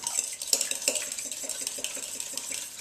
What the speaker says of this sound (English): all I'm going to do is crack them into a bowl and give them a nice quick whisk with a fork